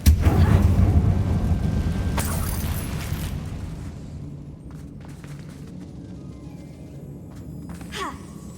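Incendio fire spell cast in the wizarding game Hogwarts Legacy: a loud fiery whoosh bursts out at once, then rumbles and fades into a quiet cavernous tail with a faint flare near the end.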